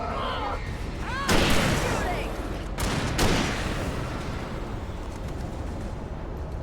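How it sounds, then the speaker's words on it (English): Gunfire rings out in Alan Wake Remastered, with loud, booming shots bursting around the second and third seconds over a dense, rumbling backdrop of combat noise. "Shooting."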